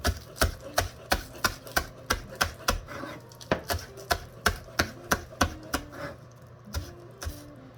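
Green onions chopped with a knife on a board during veggie pancake prep, a steady series of crisp, evenly spaced chops, close and distinct, about two per second.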